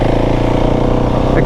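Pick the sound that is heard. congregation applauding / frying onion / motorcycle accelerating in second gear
motorcycle accelerating in second gear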